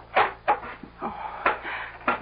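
An old farmhouse door is opened in a radio drama, a series of close wooden knocks and creaks with a latch-like clunk, spaced irregularly over a couple of seconds.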